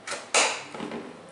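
Plastic RAM slot latches on a PC motherboard snapping open during a budget gaming build, two close clicks, the second louder and sharper, with no talk.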